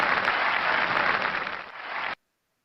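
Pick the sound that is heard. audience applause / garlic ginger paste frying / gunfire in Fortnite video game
audience applause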